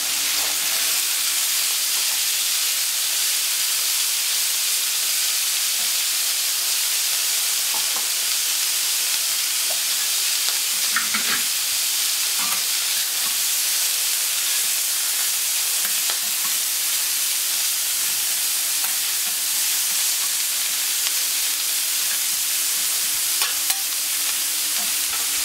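Small carrots fry in fat in a hot pan, a loud, steady sizzling hiss that runs the whole time with a few faint clinks and no voices.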